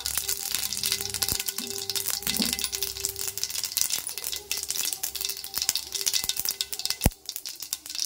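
Cumin seeds sizzle steadily in hot oil in a pan while brinjal curry is being cooked, a constant close crackle broken by a few light metallic clinks of utensils.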